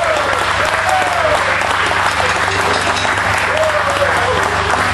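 A crowd in a festival tent applauds a band, producing a loud, continuous wash of clapping, with voices and cheering mixed in underneath throughout.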